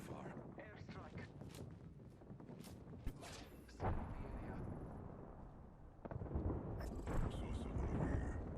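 Airstrike explosions in Apex Legends, rumbling booms and crackling blasts that come in several waves over the game's background noise, with the loudest bursts near the end and a voice talking over them.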